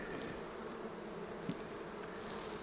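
Honey bees buzzing around a hive being moved out of an old abandoned car, a continuous close drone of many insects with a faint tap partway through.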